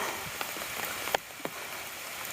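Rain falling on the Appalachian Trail, a soft steady patter of drops on surfaces with a few sharper taps, close and continuous at low level with no talk.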